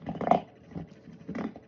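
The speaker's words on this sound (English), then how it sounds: "Thanks for putting up with my puppy loving on his gums, chewing this bone like a crazy dog." A puppy growls softly in short, grumbling bursts while gnawing on a bone, close by, with quiet gaps between the throaty rumbles.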